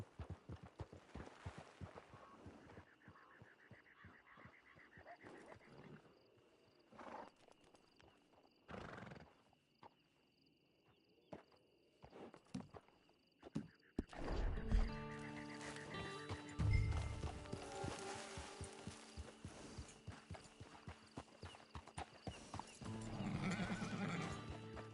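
A horse in the Red Dead Redemption Online video game, heard as clip-clopping hooves and neighing whinnies with ambient game sounds, growing louder and busier in the second half.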